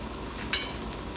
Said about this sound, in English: we're just going to let them fry here